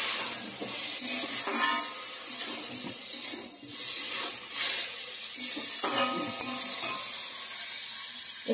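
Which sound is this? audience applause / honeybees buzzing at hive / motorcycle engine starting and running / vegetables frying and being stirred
vegetables frying and being stirred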